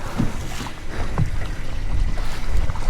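A boat moving across water, with a steady low engine-like rumble and splashing, choppy wash over wind noise; no voices.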